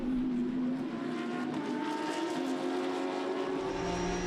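Race cars, including a Lamborghini, an Audi and a Porsche, roar past during a Belcar Series race at a Belgian circuit, a loud sustained engine drone with shifting pitch and no talk.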